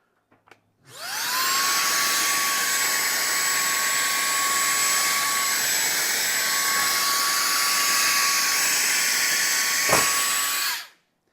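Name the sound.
GRABO High Flow vacuum lifter lifting porous paver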